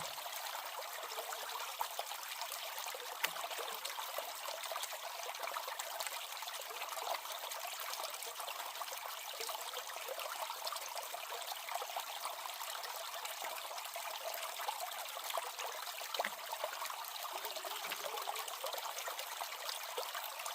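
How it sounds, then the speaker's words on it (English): Water swirls and trickles in a blue plastic gold pan as river gravel is panned out by hand, a continuous close sloshing wash with no talk. "what I'll do is just pan this out a second time."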